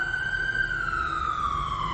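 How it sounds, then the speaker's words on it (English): Police siren wailing steadily off Harrison Avenue in a Cincinnati neighbourhood, a single rising-and-falling tone that sounds moderately distant and plays alone without speech. "She's used to hearing sirens off of Harrison Avenue."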